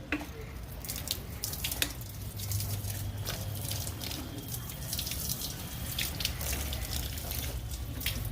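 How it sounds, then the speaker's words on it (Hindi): Water poured from a tap over a freshly repotted clematis vine: a steady, close splashing and running stream with scattered drips, continuous for several seconds and heard alone. "यानी इसको पहले तो हम पानी से वॉश करेंगे"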